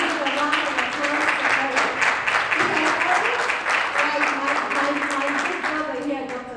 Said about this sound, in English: I want to also ask you to do a round of applause